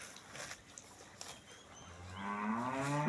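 A Russian-breed dairy cow, about 160 cm tall, moos loudly and close by in a long drawn-out call at a farm in Syrdarya region, Uzbekistan.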